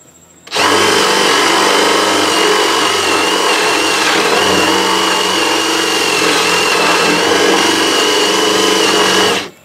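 Hand-held power drill boring through wood for a golf cart seat, a loud steady whine that starts abruptly, holds unbroken for about nine seconds with slight wavering as the bit is rocked, then cuts off.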